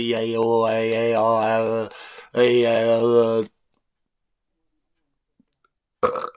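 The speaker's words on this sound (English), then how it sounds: "it's burp" A drawn-out, throaty vocal sound with strong tonal harmonics, a short pause, then a second similar burst; it may be a deliberate burp, followed by a brief noise at the end.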